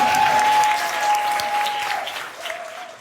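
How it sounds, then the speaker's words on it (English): A short burst of audience applause for a group at a community theatre gathering, full at first and then thinning and fading within a few seconds. "And give this group a round of applause."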